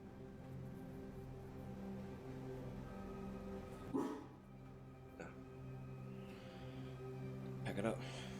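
A dog barks a few times inside an old cottage near Sydney, Australia, with sharp isolated barks over a steady low hum and faint background voices.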